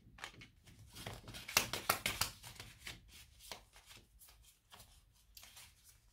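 Fortune-telling cards are shuffled by hand in repeated quick riffling and slapping bursts, close and fairly soft, slowing into scattered flicks toward the end with no talking.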